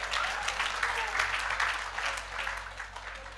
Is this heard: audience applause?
yes